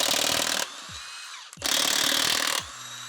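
Power tool zipping 24 mm lug nuts off a Ram V10 pickup wheel: two loud, sustained whirring bursts about a second each, separated by a short pause, close up with no talk.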